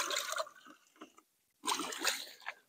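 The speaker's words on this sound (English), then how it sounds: "And when I do water plants," Pond water is poured from a container onto potted plants in a food forest homestead, giving two close bursts of splashing, trickling water separated by a brief pause.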